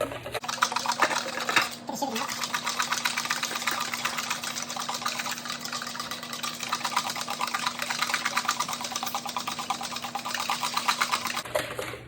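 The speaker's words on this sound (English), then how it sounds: "Now we're gonna whisk the ingredients together." Ingredients for a Thai larb salad dressing are whisked in a kitchen, heard as a steady, close mechanical whirring buzz that starts abruptly, holds at an even level for about ten seconds, then cuts off.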